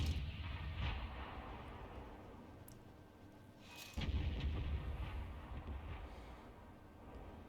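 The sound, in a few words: artillery shells firing and landing, T92 HMC in video game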